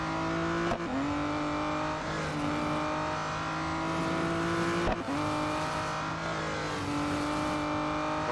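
An Aston Martin Vulcan AMR Pro race car in Real Racing 3 drives with a steady, loud engine drone, its pitch dipping and climbing through gear changes, and a sharp impact thud midway.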